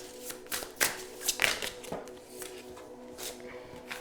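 Tarot cards riffle and slap in a series of quick, soft shuffling bursts, close and fairly quiet, with no talking over them.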